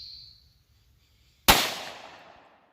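A single sharp, loud 9mm pistol shot fired outdoors over a chronograph, an abrupt crack that rings out and decays over about a second after a quiet lead-in.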